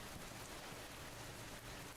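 Steady rain in the Schedule 1 video game, an even hiss of falling drops filling the background without pause, moderately quiet and with no one talking.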